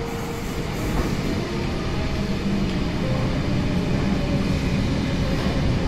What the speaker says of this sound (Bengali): এ দেখো ট্রেনও এসে গেছে একটা।